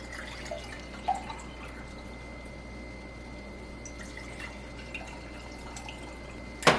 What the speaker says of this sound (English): I'm putting hot water out of the faucet